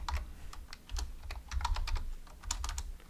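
Quick, uneven keystrokes tap on a computer keyboard, close and fairly quiet, in short bursts of clicks with brief pauses between them and no talking.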